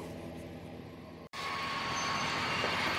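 Model railway train running on its track, a steady close rumbling whir that cuts out for an instant and then resumes slightly louder and brighter.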